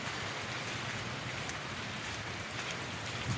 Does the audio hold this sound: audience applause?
no